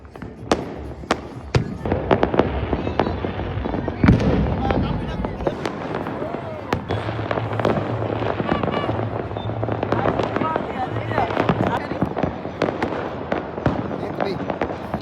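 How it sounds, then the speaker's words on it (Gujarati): Fireworks and firecrackers burst repeatedly during an Uttarayan kite festival evening in Ahmedabad, sharp cracks and bangs scattered irregularly over a dense crackling backdrop, some near and loud, with people talking underneath. "ફટાકડાનો કાર્યક્રમ ચાલુ થઈ ગયો છે."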